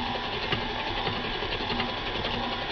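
An electric mixer set to medium beats marble cake batter with eggs added. Its motor gives a continuous, even whir that stays close and steady throughout, with no talk.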